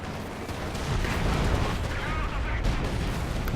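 Mortar pits firing in Company of Heroes 2, a continuous battle din of booming shell fire and crackling gunshots, loud and steady, with a voice talking over it.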